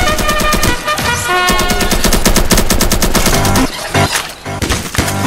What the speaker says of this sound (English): Fire everything you got at it!